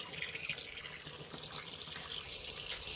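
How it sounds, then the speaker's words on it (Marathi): Water runs from a tap into a drum, a soft continuous splashing stream heard close and fairly quiet, with no talking. "हे पाणी घेते भरायला. पाणी भरते. कॉक चालू झालेला आहे."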